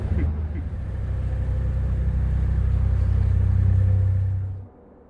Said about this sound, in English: You can hear in the background those big fans extricating the diesel fumes